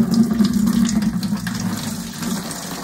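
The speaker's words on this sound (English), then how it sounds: "I can now drain out this excess water." Water gushes out steadily as a steam boiler is drained, a continuous rushing drain with a hollow low churn that keeps going without pause.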